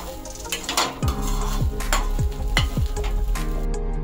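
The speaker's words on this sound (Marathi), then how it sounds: "हे एकत्र आपण एकजीव करून भाजून घेऊया सगळं।" Chopped onion and coconut dry-roasting together in a pan for a Malvani-style fresh cashew curry, with a steady sizzle and repeated scraping strokes of a spatula stirring the mixture close by.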